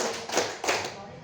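A group claps along in a counting chant at a school gathering, with a few distinct loud claps between them, close and reverberant, mixed with voices.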